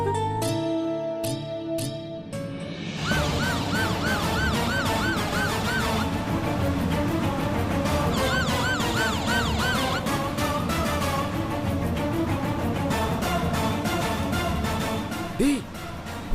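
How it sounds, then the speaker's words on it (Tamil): A police car siren wails in a steady repeating up-and-down cycle, loud and sustained after a few seconds of a tonal music bed, with a brief voice near the end. "டேய், போலீஸ் வண்டிடா."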